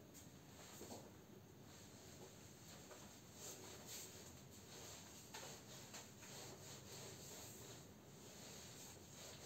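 Steady, continuous rubbing on a piece of iron, a faint, even scraping texture that runs throughout with no talk.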